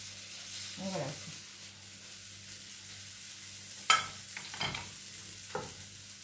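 A chili omelette cooks in a frying pan, giving a soft steady sizzle with a few sharper scrapes and clinks from a utensil, heard alone with no talk.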